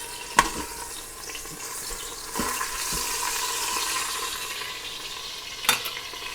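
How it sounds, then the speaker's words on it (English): Sirloin steaks sauté in an Instant Pot, a low steady sizzle with a few sharp knocks and scrapes as the meat is turned, close and moderate in level. "Just want to saute them for, 2 to 3 minutes on each side so you get a nice brown on them."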